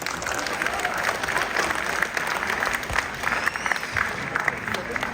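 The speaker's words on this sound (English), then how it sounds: "Let's give the performers another round of applause." An audience at an annual cultural event applauds folk dance performers, loud sustained clapping from a large crowd that keeps an even intensity across the whole stretch.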